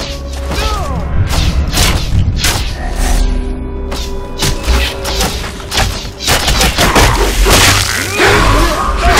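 Incoming gunfire and explosions in the video game Hunted: The Demon's Forge, loud repeated impacts and blasts crashing throughout over rumbling battle noise, dense and close with no letup.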